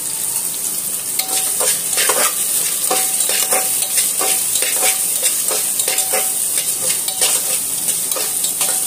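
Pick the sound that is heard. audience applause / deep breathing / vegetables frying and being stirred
vegetables frying and being stirred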